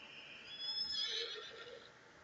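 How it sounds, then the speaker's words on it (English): Horse neighs in a video game, a high whinnying call swelling and fading over about two seconds, clean and alone without talk, set in an island horse-riding world. "Sorry about the horses."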